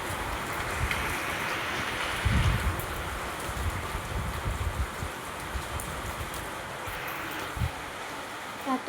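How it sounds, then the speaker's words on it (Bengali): Heavy rain falls steadily outdoors on a rainy day, a dense continuous patter with a few louder splashes and low rumbles, heard without any talking. "কি পরিমাণে বৃষ্টিটা হচ্ছে দেখো নাই,"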